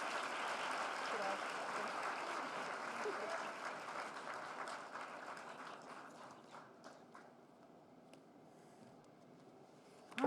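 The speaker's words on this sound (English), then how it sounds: "can we give another round of applause to Artie?" Audience applause at the Chicago Rise Up celebration, a dense, steady wash of clapping from a large crowd that gradually thins and fades toward the end.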